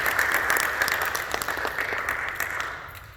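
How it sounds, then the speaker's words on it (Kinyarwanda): A church congregation gives a short round of steady applause that gradually fades away over a few seconds. "Twakomeye Imana amashyi"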